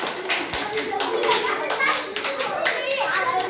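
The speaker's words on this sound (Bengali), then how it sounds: "নিহার জন্য একটা জোরে হাততালি হবে।" Primary schoolchildren in a second-grade classroom clap for a classmate, a busy patter of many small hands mixed with children's chatter.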